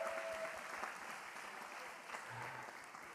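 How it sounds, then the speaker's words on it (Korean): Audience applause at a church young-adults gathering, steady clapping from a small crowd that continues for about three seconds, with a brief voice murmur near the middle. "우리 박수 한번 줄까요?"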